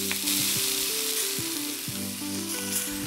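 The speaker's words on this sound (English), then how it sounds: "That sizzle means it's browning." Steady, loud sizzling of cod browning in a hot pan with olive oil, a continuous crackling hiss throughout with a few faint clinks of cookware.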